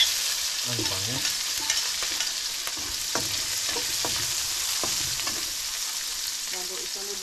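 Garlic and then onion being fried in a pan for a home-cooked seafood dish, a steady soft sizzle with occasional stirring clinks, while a person speaks briefly nearby.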